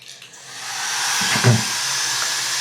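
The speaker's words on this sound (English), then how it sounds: "So what you're hearing right now are the cooling fans." A steady whooshing whir of an RC car's small motor cooling fans spins up and holds at a constant pitch, close and continuous with no talking.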